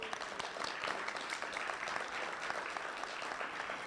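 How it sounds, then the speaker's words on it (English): An audience at a pitch event gives Denise Pasley a round of applause, a steady, even patter of many hands clapping at low level throughout, with no break. "let's give a round of applause to Denise Pasley"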